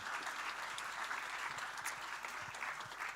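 A large audience at a national grand final event claps in a steady, even roar of applause, fairly distant and continuous for the whole stretch, with no talking.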